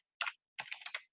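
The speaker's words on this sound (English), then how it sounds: "You would just type in Facebook" A computer keyboard typing a web address: two short bursts of rapid, soft key clicks close by, the second longer, with silence between and no voices.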